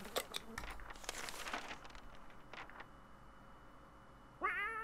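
A cat meows in the video game 60 Seconds!, a short clear call near the end after quiet crinkling and faint background noise.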